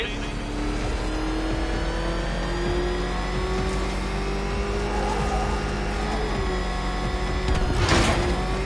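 The Batmobile's engine roars in the video game Arkham Knight, a loud, sustained high-revving drone that climbs slightly in pitch, close up, with a short burst of louder noise near the end.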